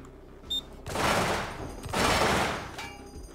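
Two loud, broad bursts of gunfire from the game Receiver, each about a second long with a ringing tail, separated by a short gap; no talking.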